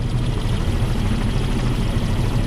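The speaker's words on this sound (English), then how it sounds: "A helicopter dumps buckets of water over the flames" A helicopter drops buckets of water on a South Korean wildfire, its engine and rotor a loud, steady low roar that fills the whole stretch without a break.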